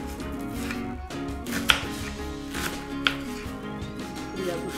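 Knife chopping through red onion on a cutting board, with a couple of sharper crunchy cuts standing out over steady background music.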